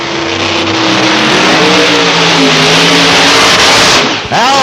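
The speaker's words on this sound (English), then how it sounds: "Here is the Canadian car export side, number 1 qualifier, the supercharged Camaro of Al Billis." Al Billis's supercharged Camaro Pro Modified drag race car, Canadian export side number 1 qualifier at London Motorsports Park on Labour Day 1992, roars loud and close with a harsh, sustained engine rumble before cutting off abruptly near the end.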